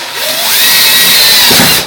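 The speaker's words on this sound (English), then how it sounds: "while I was drilling it into the wall" A power drill whirs loudly and steadily as it bores into a wall, rising in pitch as it spins up and then stopping, with no talking.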